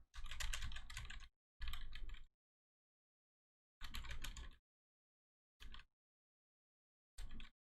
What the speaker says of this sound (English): this is what the keyboard clicks sound like when the keyboard is directly behind the microphone